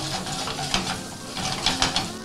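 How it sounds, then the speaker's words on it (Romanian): Floured fish fries in a pan with steady sizzling and crackling, plus a few louder scraping stirs, loud and close with no voices. "se dă prin puțină făină și se pune la prăjit"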